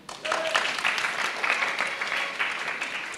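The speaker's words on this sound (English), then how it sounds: "if you could hold the applause now until the end" Audience applause at a World Mental Health Day event rises quickly after a short quiet moment, a steady wash of many hands clapping at moderate volume that holds throughout.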